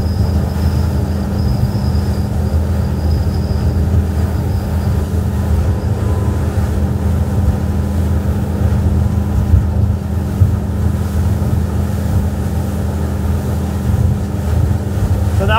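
A Nimbus T11 motorboat cruises through waves at about 33 knots, its engine and rushing water making a loud, steady roar with wind buffeting throughout.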